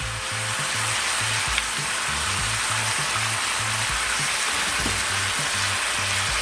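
Leeks sizzle loudly in a pan with crabs, a steady close frying hiss with faint rhythmic stirring and scraping throughout, no voices.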